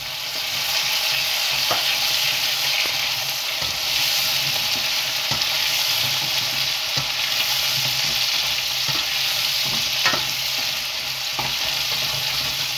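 Onions and peas sizzle steadily in a hot pan for kofta fried rice, a continuous loud frying hiss broken by occasional clicks and scrapes of stirring, with no voices.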